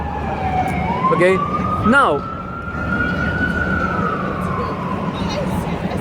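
An emergency vehicle siren wails along a New York street, a rising and falling tone over steady city traffic rumble, moderately distant, while a voice speaks briefly over it.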